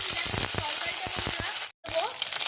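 Whole spices, green chili and ginger paste fry in a pan for Bengali aloo dum, a close, steady sizzle with short stirring clatters and a brief cut near the end.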